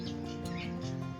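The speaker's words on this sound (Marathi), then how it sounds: "तिकडून पोपट सारखा आवाज येतोय." Parrot calling from a tree outdoors among many birds, its chirps faint and mixed into a steady hum of surrounding sound.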